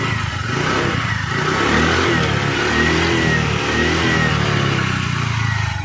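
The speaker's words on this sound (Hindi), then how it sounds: "अब थोड़ा सा एक्सीलेटर लेकर दिखाते हैं आप लोगों को।" Honda Dio scooter engine in a workshop, revved with the throttle after repair, a continuous loud buzzing engine drone with mild rises in pitch, close by and alone.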